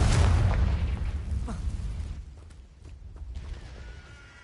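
A Confringo blasting spell explodes in Hogwarts Legacy with a loud, close boom at the start, then a rumbling tail fades over a couple of seconds into quieter clatter.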